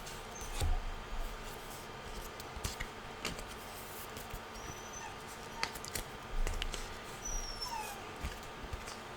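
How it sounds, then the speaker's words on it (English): A dog whimpers and cries in a room at a moderate distance, in short high-pitched bursts that come and go over a faint low background hum. "there is a dog crying"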